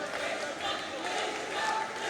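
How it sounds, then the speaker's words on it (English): A crowd at a Kumite One Warrior Hunt fight chants the fighter's name Krishna, a dense steady roar of many voices filling the arena, with a voice speaking over it. "Crowd chanting Krishna, Krishna."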